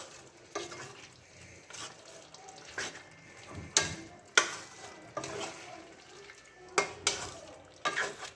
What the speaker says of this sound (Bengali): যখন সর্ষের পেস্ট দেবেন তখন কিন্তু গ্যাসটা অবশ্যই মিডিয়াম ফ্লেমে থাকবে, এবং ভালো করে এটাকে নাড়িয়ে নেব।